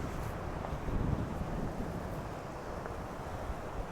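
Steady wind buffeting a microphone outdoors on a hazy day in Costa Teguise, a constant low roaring rumble with slight gusts and no other clear sounds.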